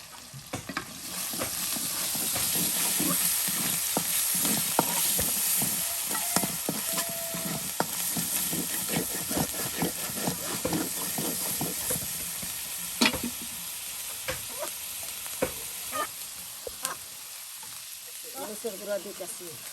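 Onion, garlic, ginger and cumin spice pastes frying in a pan, a dense continuous sizzle with frequent stirring scrapes throughout, close and steady.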